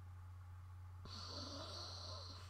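A person's voice imitates heavy breathing, a single drawn-out raspy breath that starts abruptly and carries on, close and fairly faint over a low steady hum.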